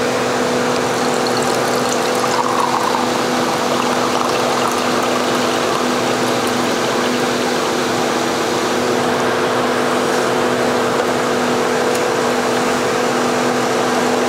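A battery-operated sugarcane juice machine with heavy-duty rollers runs as it crushes cane, giving a loud, constant motor drone with a steady hum and no pauses.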